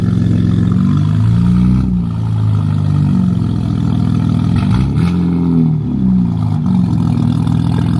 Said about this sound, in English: The exhaust sounds deep.